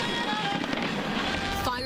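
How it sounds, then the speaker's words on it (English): Fireworks crackle and pop at the Chicago holiday tree lighting around a towering Norway spruce in Millennium Park, a dense, steady outdoor din with crowd noise and voices mixed in throughout. "Fireworks and excitement filled the air as Chicago officially kicked off its holiday season."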